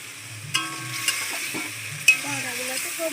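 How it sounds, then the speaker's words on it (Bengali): Spice paste stir-fried in a pan for a rohu fish dish, a soft sizzle broken by scraping stirs and a few sharp clinks of a spatula against metal, fairly close. "এবার মশলাটাকে সুন্দর করে কষিয়ে নেবো"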